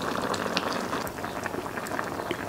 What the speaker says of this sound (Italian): Lo lasciate bollire senza toccarlo per circa 10 minuti